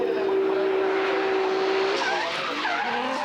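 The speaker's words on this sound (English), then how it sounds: "He's driving a Nissan 200 SX with VR38, 580 horsepower." Nissan 200 SX race car fitted with a VR38 engine and 580 horsepower, in Grand Prix qualifying: a loud, steady high engine note holds for about two seconds, then breaks into rough skidding tyre squeal with shifting revs.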